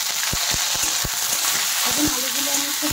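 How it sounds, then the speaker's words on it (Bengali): Chopped potatoes sizzle in a pan with fried ginger, cumin and chilli, a steady close hiss broken by short scraping stirs and clinks of the spatula, with no talking. "এখন আলুগুলো আমি একটু হালকা ভেজে নেব।"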